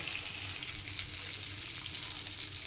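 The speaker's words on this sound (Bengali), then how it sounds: "সে মাছ ভাজার তেলে কচু দিয়ে দিয়েছি" Pieces of taro fry in leftover oil from frying fish, giving a steady, soft, close sizzle with faint stirring and no voices.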